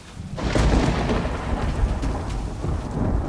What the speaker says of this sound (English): Outside, a summer storm has rolled in.